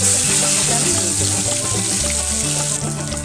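Onion and coriander paste frying in hot oil gives a loud, steady, close sizzle with bubbling crackle throughout.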